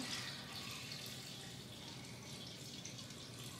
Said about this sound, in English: I'm pouring my brine in over top, spilling a lot of it on the counter while I do it